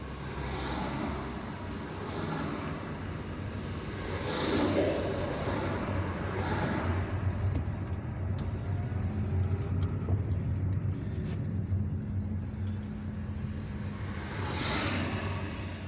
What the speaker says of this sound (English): it's obvious that there is traffic here